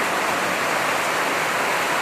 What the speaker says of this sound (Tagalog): Ito yung falls, kasi nagpo-falls yung tubig.